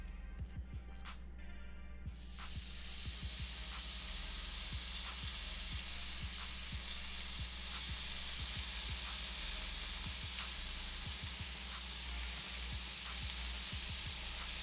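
Chicken pieces sizzle steadily on a Hamilton Beach indoor electric grill set to sear, a loud continuous bright hiss that starts abruptly after quiet scraping, with scattered crackles and pops throughout and no talk.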